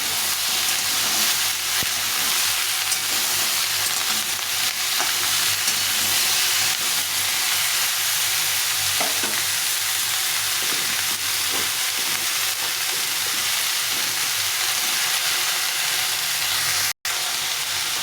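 Pumpkin pieces fry in a pan for a mixed vegetable ghonto, producing a loud, continuous hiss and sizzle with faint stirring clicks, steady throughout and briefly cut by a sharp click near the end.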